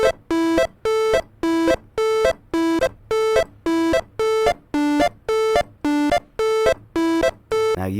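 A Siren Head-style sound made with the Mini Synth plugin plays as a rhythmic series of about thirteen short, buzzy synthesized tones alternating between two pitches, evenly spaced and bright, like a video game alarm.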